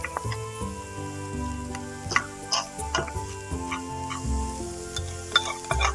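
A wooden spoon stirs sofregit with smoked paprika in a paella pan, giving soft scraping clicks and a faint sizzle beneath steady background music.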